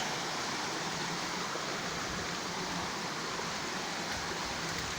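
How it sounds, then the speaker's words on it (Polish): Waterfall in the mountains near Zakopane: a constant, dense roar of falling water, steady and enveloping from close by, with no voices over it. "O, tutaj jest jakiś wodospad."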